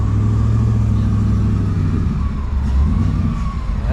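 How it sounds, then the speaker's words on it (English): A boosted truck engine drones loud and close with a steady low rumble and a faint whine on top, while the exhaust note rises and falls slightly near the end. "Truck's boosted. I hear that."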